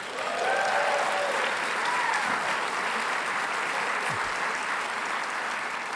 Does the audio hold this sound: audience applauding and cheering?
yes